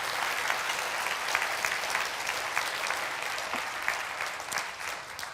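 A church congregation applauds in a steady, even wash of clapping, moderately distant and continuous throughout with no talk over it.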